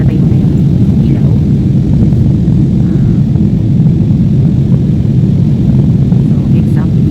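A Cebu Pacific airliner climbs after take-off, with a loud, steady engine roar filling the cabin throughout and a voice speaking faintly beneath it.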